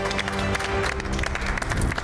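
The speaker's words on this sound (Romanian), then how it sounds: "Încă o dată aplauze" A studio audience at a televised cooking contest applauds, a moderately loud wash of clapping mixed with crowd noise, while music plays underneath.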